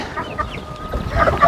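Hens in a backyard coop taking a dust bath, clucking softly in short bursts that grow busier and louder toward the end, with no voices.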